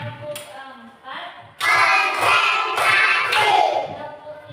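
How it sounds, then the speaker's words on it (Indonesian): Children in a classroom clap through a counting routine, starting with a few scattered claps and then breaking into loud, dense bursts of clapping in groups, with young voices chanting along. "Tepuk satu, tepuk dua, tepuk tiga, tepuk empat,"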